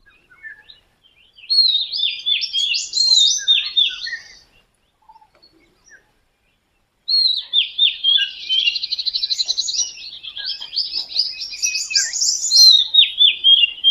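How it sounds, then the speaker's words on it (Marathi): Near a quiet forest temple in a Konkan village, birds chirp and trill in clear, rapid bursts, with two long spells of song separated by a near-silent pause. "पक्ष्यांचा आवाज सोडून दुसरं काहीच ऐकू येत नाही."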